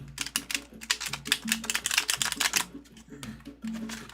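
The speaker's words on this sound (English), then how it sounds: "These are a bitch to shuffle, but I'm going to shuffle them anyway." A deck of Oracle of the Radiant Sun oracle cards being shuffled by hand, giving a run of quick, close papery riffles and flicks over about four seconds, with a person talking over part of it.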